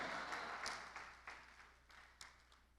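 Church congregation clapping, faint and distant, with scattered claps over a low hall murmur.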